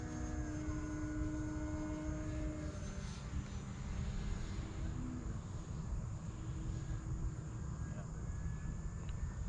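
An E-Flite Night Timber X RC airplane flies overhead at full throttle, its electric motor and propeller giving a steady droning whine with gliding pitch changes that holds through the whole stretch over constant outdoor noise.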